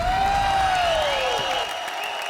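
A studio audience at a television comedy show breaks into brief applause and cheering, loud and dense, blended with a sweeping music or sound effect that glides downward before fading.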